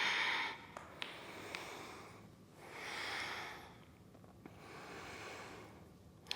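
Slow, audible exhales and breaths through the nose during a yoga flow, with several long breathy swells spaced a couple of seconds apart, close and fairly soft.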